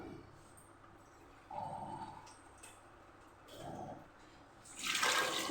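Water poured into a cooking pot to boil potatoes with salt, heard as a few short, faint splashing bursts. The last burst is louder and brighter.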